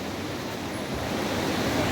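The Ağasar stream in Şalıpazarı, Trabzon, rushes past as a steady, broad, hissing wash of flowing water that stays even throughout.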